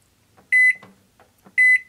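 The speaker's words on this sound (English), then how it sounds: "Right, how long should I microwave it?" A microwave oven holding a can of shaving cream gives two loud, clear electronic beeps about a second apart over a quiet hum.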